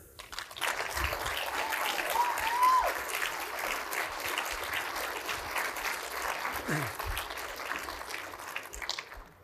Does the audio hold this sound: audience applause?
yes